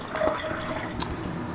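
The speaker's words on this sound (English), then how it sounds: "hey, we got water. Running water," Water runs from a newly plumbed tap in a box truck converted to an RV, a soft, steady, close trickle with faint splashing and no voices.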